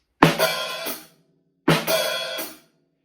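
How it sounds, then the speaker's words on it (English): Two short drum fills a moment apart, each a crisp snare-and-hi-hat flurry that rings briefly before stopping, played alone and up close. "involves hitting the snare and the hi-hat like this"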